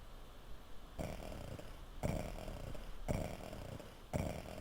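Snoring from a sleeping character in the video game King's Quest III, slow rhythmic snores repeating about once a second, soft and steady with a low breathy rasp and no talk.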